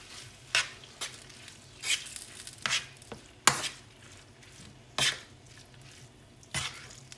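Cilantro lime rice broken up in a hot pan, a series of soft scraping and stirring taps spaced a second or so apart over a quiet background sizzle, no voices.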